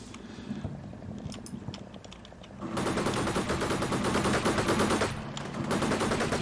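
Sustained gunfire in the tactical wargame Combat Mission Shock Force 2, platoon-level combat: a quieter stretch of scattered shots gives way to dense, loud continuous automatic fire that briefly eases before resuming.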